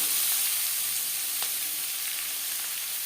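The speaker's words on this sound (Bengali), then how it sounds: "15-20 সেকেন্ড কালো জিরে কাঁচা লঙ্কা ভেজে নেওয়ার পর দিয়ে দেবো মূলো" Radish pieces frying in a little oil with nigella seeds and green chilli, a steady bright sizzle throughout, fairly close, with one brief crackle midway and no talking.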